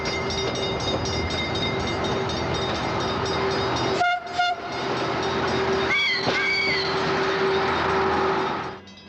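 An Italian-built Fiat self-propelled rail car runs past a station with a steady rumble and clatter, and its horn sounds in short blasts partway through.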